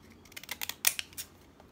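A few quick, crisp snips of scissors cutting paper, fairly close and light, with short gaps between the cuts.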